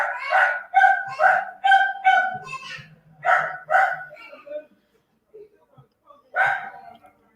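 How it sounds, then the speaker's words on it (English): A loud pet dog barks in the background at home, a rapid run of sharp barks and yips, then a pause and one more bark, fairly close and with no talk over it. "sorry y'all if y'all hear my dog in the background"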